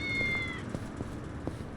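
A single drawn-out cat meow in Yakuza: Like A Dragon sounds close and clear at the start, then fades into soft background ambience with faint taps.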